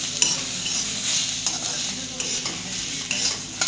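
Peanuts roasting in a spicy masala with oil for a bitter gourd dish, stirred with repeated scraping strokes over a constant close sizzle, no talking.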